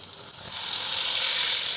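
A sudden, loud sizzle as blended spice paste hits hot oil, swelling into a steady hiss; no voices.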